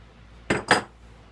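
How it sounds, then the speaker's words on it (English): A lock nut on a pressure pot lid is tightened with two quick, close metallic clinks about a fifth of a second apart, with near silence around them. "We'll tighten down the lock nut on that."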